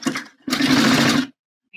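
A sewing machine tacks the hook part of a bra in two short bursts, a brief one and then a longer steady run, before stopping; close and clear, with no talk.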